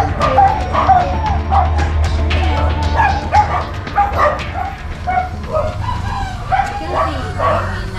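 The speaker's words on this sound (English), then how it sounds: "As I battled my way through the barking dogs" Several dogs barking repeatedly and close by, loud overlapping yaps with a rooster crowing among them and voices faintly mixed in.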